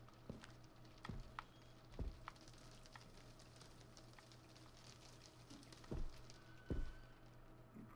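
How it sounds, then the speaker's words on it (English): Rain falls outside a house in the Visage horror game as a faint, steady patter, broken by a few soft thumps and knocks. "The rain outside."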